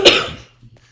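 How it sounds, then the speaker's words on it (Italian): A single sharp cough bursts out loud and close at the start, then trails off into near silence with only faint low background noise afterward. "Tosse qua, go go."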